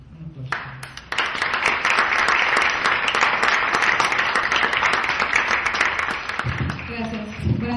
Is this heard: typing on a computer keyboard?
no